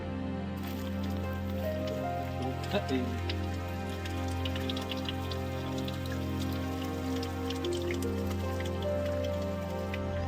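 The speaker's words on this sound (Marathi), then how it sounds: "इथं या नळीला चोवीस तास पाणी येतं" Water runs nonstop from a pipe beside an ancient stepwell, a steady close splashing and trickle over a constant low drone for the whole stretch.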